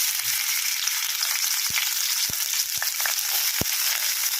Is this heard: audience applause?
no